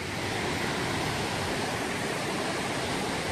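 Waterfall on the Coomera circuit track at Binna Burra, a steady, dense rushing of falling water heard close and loud, unbroken throughout with no voices.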